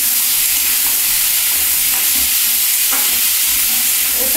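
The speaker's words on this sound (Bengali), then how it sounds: "এটাও একটু ভাজা হতে থাকুক" Ash gourd pumpkin with black cumin, green chilli and dry chilli powder frying in a pan, making a loud, continuous close sizzle with faint stirring scrapes throughout and no talk.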